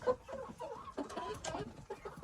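Roosters kept on a small farm cluck in a quick, uneven run of short calls, fairly faint and close by, with no clear crowing.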